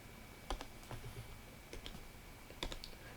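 Calculator keys are pressed during a math lesson, with a few sparse plastic clicks in small clusters, close and fairly quiet over a faint steady hum.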